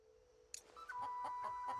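A chicken clucks in The Matchless Kungfu video game, a sudden sharp squawk followed by a run of rhythmic clucks over a steady electronic tone, close and fairly loud.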